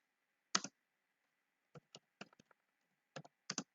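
Several quick bursts of keystrokes on a computer keyboard while entering code in Google Colab, with clusters of clicks spaced by short pauses, fairly faint against quiet background.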